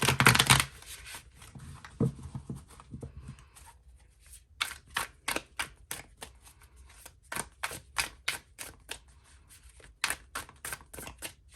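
Light Seers tarot cards with black-edged sides being shuffled, a burst of riffling followed by a long run of quick, crisp slaps and flicks at close range, with no voices.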